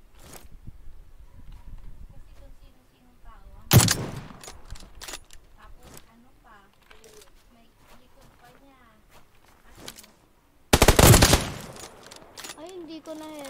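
Gunfire in the battle royale game PUBG comes as two loud, sharp bursts of rapid shots several seconds apart, with quieter footsteps and game sounds in between while a player talks.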